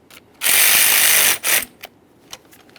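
A fuel pump module on a Ford F-150 2.7L V6 being snugged down with a ratchet: a long steady burst of rapid clicking, a short second burst, then a few isolated clicks, close and alone.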